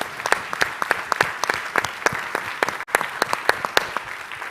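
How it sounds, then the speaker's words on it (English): An audience at the Dubai Future Forum claps in a round of applause, a lively stretch of dense, sharp hand claps from a seated crowd. "Could you all give, please, Stephen and Sahi a round of applause?"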